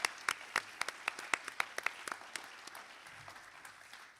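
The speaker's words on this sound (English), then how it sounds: "Let's give them a round of applause" Scattered clapping from a modest audience at a Silicon Valley Oxford Union–style debate, starting with crisp, evenly spaced claps that thin out and fade over a few seconds.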